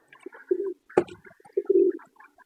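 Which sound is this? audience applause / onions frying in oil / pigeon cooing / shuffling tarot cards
pigeon cooing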